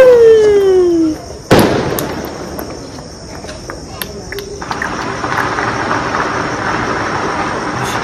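A firecracker set off near a home gives a single sharp, loud bang after a descending whistle, followed by a fading crackling hiss.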